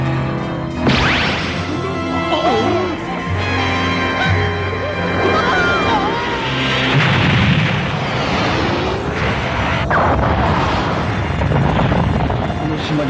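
A Dragon Ball Z laser blast destroying islands: sustained roaring explosions and bursts with sweeping tonal whooshes and crashes, loud and dense throughout, with voices mixed in.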